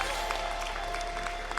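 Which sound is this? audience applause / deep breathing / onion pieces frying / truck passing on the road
audience applause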